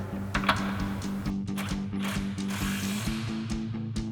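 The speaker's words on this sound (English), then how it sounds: "Now we'll tighten down our forward mounting bolt with our 18mm socket." A ratchet with an 18mm socket tightens a strut mounting bolt on a 2005-2009 Mustang GT, giving fast, even clicking pawl ratchets in short bursts, close and clear with no talk.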